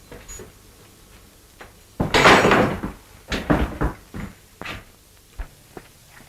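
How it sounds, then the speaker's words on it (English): A door being opened in a Western film, with a clattering wooden bang and rattle followed by several heavy thumps and knocks, fairly close and loud with no voices. "Get that door open."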